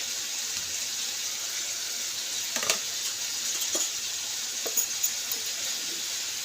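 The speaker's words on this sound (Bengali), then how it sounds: "এই যে ভাজা একটু একটু ভাজা হয়ে গেছে, অল্পই ভাজবো, বেশি ভাজবো না" Raw tomato fries in a pan with a steady, even sizzle, broken by a few sharp clinks of a spatula stirring against the pan; no one speaks.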